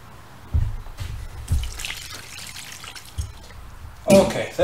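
Water poured into a meat mixer holding 25 pounds of ground meat for brats, a few soft splashes and trickles with mixing clatter, fairly quiet and intermittent.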